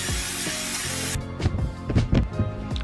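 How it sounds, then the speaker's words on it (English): Coconut oil cooking spray hisses in a single steady burst for about a second onto a pan on the stovetop, followed by a few close clatters and rubbing handling sounds. "I'm gonna be using coconut spray"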